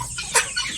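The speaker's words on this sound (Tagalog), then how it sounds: "May gustong lumabas ng mga manok." Chickens clucking at a poultry farm, a short burst of calls over a busy background.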